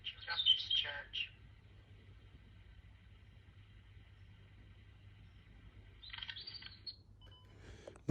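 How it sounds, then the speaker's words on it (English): A blackbird sings outdoors near the church at Borley. Two faint, brief bursts of warbling song come from some distance away, separated by a quiet stretch over a low, steady hum. "Love the sound of blackbirds singing."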